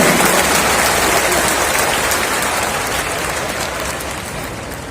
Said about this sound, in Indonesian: Kita berikan aplaus yang meriah untuk Ustadz kita.